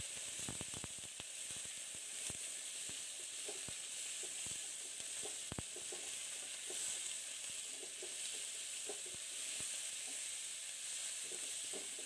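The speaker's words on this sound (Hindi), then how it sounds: "चिकन इसके अंदर डाल के हम उसको सफ़ेद होने तक पकाएंगे" Chicken pieces fry in a pan over a low-medium flame, giving a steady close sizzle and hiss with occasional light stirring clicks and scrapes throughout, no voices.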